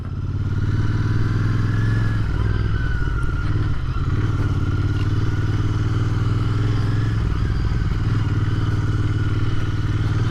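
A Royal Enfield INT 650 motorcycle rides over gravel, its engine droning steady and loud up close with a continuous rumble and faint crunching underneath.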